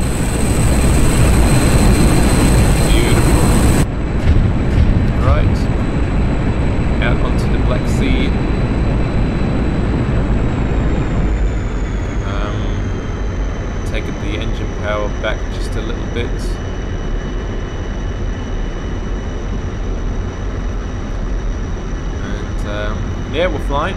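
A MiG-21 jet in the DCS flight simulator game roars through takeoff and climb, a loud, steady engine rush that drops in level partway and settles into a smoother drone, with a voice talking over it.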